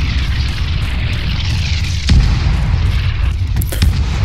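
Artillery firing in the military game Arma 3, a continuous low rumbling roar with a sharp distant boom midway and a couple of cracking reports near the end, no voices.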